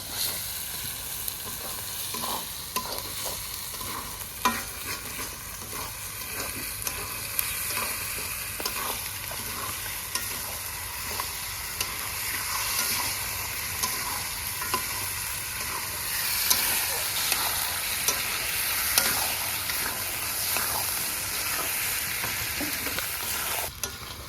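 Goat meat fries with spices in a pan at an outdoor picnic, a constant close sizzle broken by repeated scraping stirs, with no talk over it.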